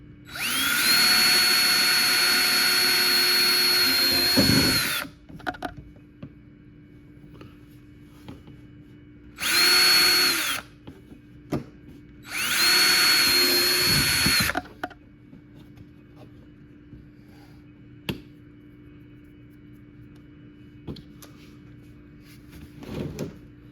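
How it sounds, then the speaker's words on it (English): A power drill bores air holes into a plastic worm bin: one long whining burst of about five seconds, then two shorter bursts close together. Quiet pauses with small handling clicks fall between them. "Let's go ahead and get these holes drilled in."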